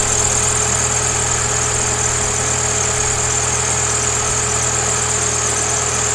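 A 2009 VW GTI with the 2.0T FSI engine idles smoothly and steadily, a close, even mechanical hum with a constant high whine and no change in revs throughout.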